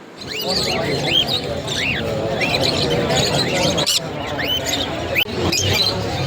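Many small birds in a pet shop chirp and tweet busily over a dense, steady background din, with occasional sharper squeaks and a few thumps.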